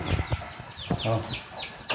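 A hen clucks repeatedly at close range on a farm in La Union, Philippines, with short, throaty calls and other farmyard chicken sounds mixed in.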